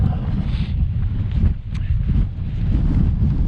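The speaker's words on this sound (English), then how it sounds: "Still breezy though" Wind gusts across an open hilltop on Hedgehope Hill in the Cheviots, a continuous low rushing roar buffeting the microphone with slight surges and dips.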